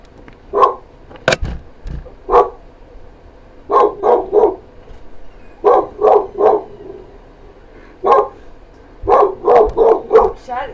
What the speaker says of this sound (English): My dog hears her barking.